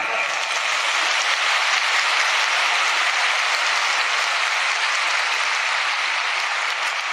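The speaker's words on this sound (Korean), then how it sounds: "박수 한번 하세요" A large crowd applauds in a convention hall during a religious rally at Songdo Convensia in Korea. The clapping is loud and blends into a continuous wash of sound that stays even for over seven seconds.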